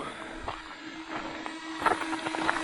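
A small 2.6 hp outboard motor drives a fishing boat on the Dniester river in autumn, giving a steady droning hum mixed with wind and water rush, continuous and moderately loud.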